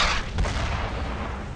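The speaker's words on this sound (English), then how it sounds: "We got mortars, guys." Mortar fire in the World War II shooter Brothers in Arms, a loud close blast with a rumbling boom that rolls on and slowly decays, with no talk over it.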